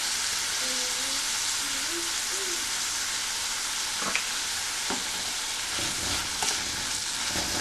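Chopped tomatoes sauté in a pan for an okra tamarind curry, giving a steady broadband sizzle with a few soft spoon scrapes and taps near the end; no one speaks.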